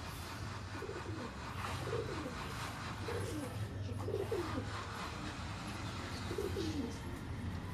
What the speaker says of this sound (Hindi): बहुत दूर के पल्ले पे जाके लड़ रहा कबूतर।